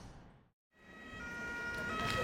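A siren wails faintly and rises in the distance after a brief silence, swelling slowly beneath a low background rumble.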